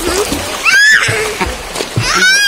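Water splashes in a swimming pool as someone jumps in, sharp splatters mixed with excited, high voices talking and shouting over the sloshing.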